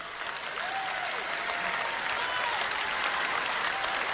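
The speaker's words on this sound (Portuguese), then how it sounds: "Vamos, aplauda o Senhor." Congregation applause at a church service, a steady broad wash of clapping sustained throughout without pause.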